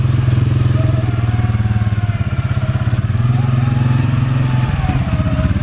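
CF Moto quad bike engine running on cruise control down a hill, a close, loud, steady thumping idle-like drone with slight hunting in pitch, continuous for several seconds.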